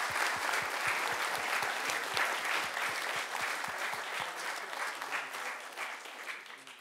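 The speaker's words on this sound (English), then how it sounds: "Can we give them a round of applause?" Sustained applause from an audience at a public meeting or program, a steady dense wash of clapping that holds for several seconds before thinning toward the end.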